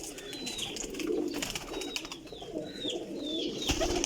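Mian Sahab line pigeons coo in a steady low murmur, with faint higher chirps and bird calls over a constant background hum.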